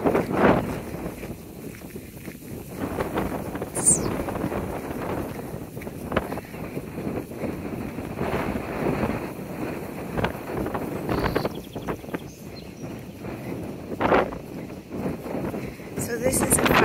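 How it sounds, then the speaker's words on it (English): Wind gusting across an open coastal trail and fire road on a hike, a steady broadband rush with stronger bursts, under occasional speech. "assuming you can hear the wind."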